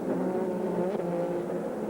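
Sports-prototype race cars at full racing speed in the 2001 American Le Mans Series, engines roaring steadily and loudly throughout with a slight swell as cars pass close by.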